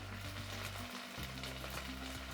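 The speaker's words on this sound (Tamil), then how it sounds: "நாம் ஷேலோ ஃப்ரை தான் பண்ண போகிறோம்" Banana stem pieces shallow frying in oil in a pan, a steady soft sizzle that holds for the whole stretch with no voices.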